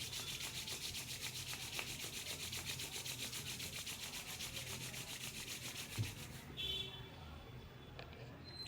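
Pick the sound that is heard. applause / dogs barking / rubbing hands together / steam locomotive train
rubbing hands together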